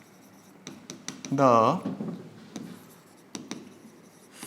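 Chalk or marker writing on a classroom board during an accounting lesson, soft scratchy taps and strokes scattered through the clip while a teacher speaks.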